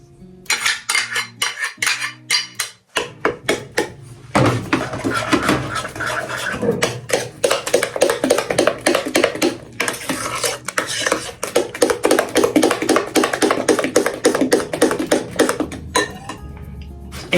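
Metal spoon stirring chopped apples into thick muffin batter in a bowl, repeated scraping and clinking knocks against the bowl, close and busy with brief pauses.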